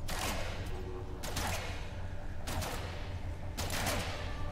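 Gunfire at a creature in No Man's Sky comes as four loud, heavy bursts spaced about a second apart over a dense rumbling game backdrop, with no speech.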